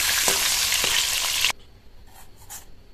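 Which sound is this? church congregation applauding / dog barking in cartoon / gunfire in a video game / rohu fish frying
rohu fish frying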